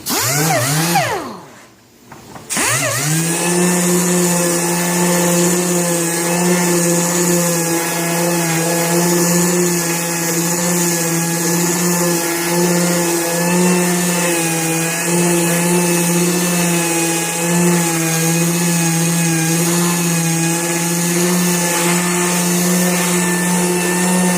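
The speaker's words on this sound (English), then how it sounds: "Now I'm going to come back with my sander again." A power sander runs steadily on a plastic car bumper repair, a loud continuous whine with a brief dip near the start before settling into a constant drone.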